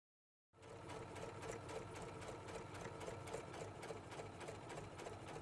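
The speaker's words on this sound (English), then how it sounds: "Touch Stitch 4, the basting stitch, to sew a straight stitch seam that can be removed easily" A Husqvarna Viking Platinum Plus sewing machine runs a basting stitch after a brief silence, keeping up a steady, fast, even mechanical chatter that stays close and fairly quiet, with no voices.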